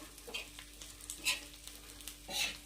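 Green chillies sauté in a pan for a spicy masala mirchi fry, a soft steady sizzle under a few scraping stirs, with a brighter stroke near the end; close and fairly quiet.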